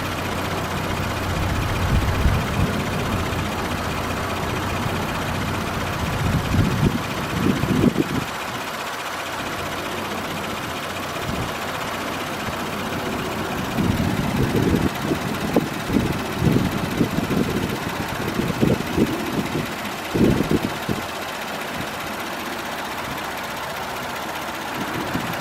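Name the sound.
car engine idling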